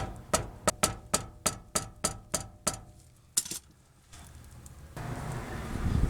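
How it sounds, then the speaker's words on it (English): A mallet strikes a bushing into the steering rack of a 2000-2006 Toyota Tundra, giving about ten sharp, evenly spaced close knocks, then a brief pause, two more hits and a rising low rumble of handling noise. "If we hit it with the mallet, we might be able to get that in."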